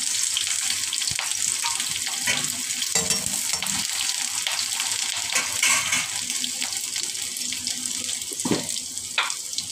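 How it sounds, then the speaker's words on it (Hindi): Onions dropped into hot oil in a pan for a breakfast potato and capsicum curry hiss and sizzle steadily, a loud close frying crackle with bursts of spitting throughout. "अब मैं डालूंगी प्याज।"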